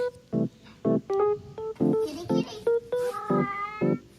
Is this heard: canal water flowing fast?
no